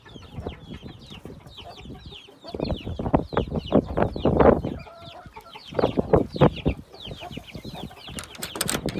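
Roosters, hens and chicks at feeding time, with busy overlapping clucking and chirping, sharp peep calls and bursts of louder squawks close by, rising and falling in clusters.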